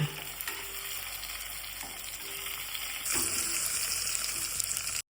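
Stuffed brinjals sauté in a pan with a steady sizzle, a few spatula knocks and scrapes, the frying growing louder partway through.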